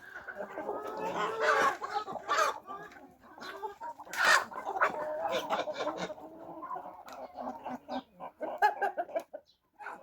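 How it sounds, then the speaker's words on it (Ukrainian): Chickens cluck busily and a rooster calls now and then, a dense, continuous poultry-yard chatter with sharp bursts rising above the flock. "Значна частина тут курей, але півнів тут також достатньо."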